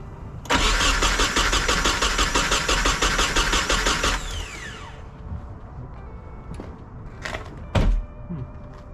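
A Nissan 240SX drift car's starter cranks with a rapid, loud, rhythmic churning for several seconds before the engine catches, then idles. A couple of brief clunks follow close by.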